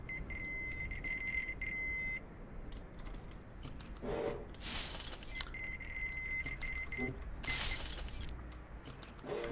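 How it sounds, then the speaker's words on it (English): In the video game Metro Exodus, a metal detector gives a steady electronic beep tone that sounds twice, amid clinking, jangling and glassy game effects over a low ambient rumble. "Wait, is that beeping sound my metal detector?"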